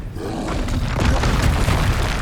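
A Confringo fire-blast spell detonates in the video game Hogwarts Legacy, a loud, dense booming roar that swells and sustains for a couple of seconds without any voices.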